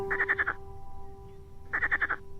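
A frog croaks in two short bursts of rapid pulsing calls separated by a pause, loud and close, with a faint steady hum behind.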